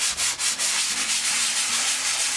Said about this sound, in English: I'm just using a regular sanding block, to which I added another piece of sanding paper, and this is a fine grit